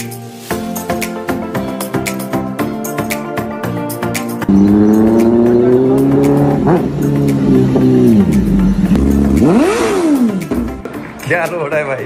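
A motorcycle fitted with a new exhaust revs loudly up close, with rising and falling engine roars and a deep, bassy tone that fills the clip as people talk over it.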